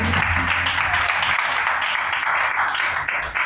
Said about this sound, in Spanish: Gloria a Dios, le doy un aplauso.